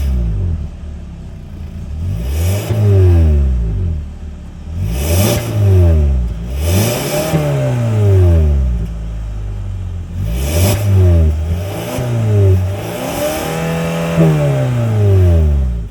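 A 2025 Kia K5's naturally aspirated 2.5-liter four-cylinder revs up repeatedly, about six loud swelling blips that rise in pitch and fall back to a low idle rumble.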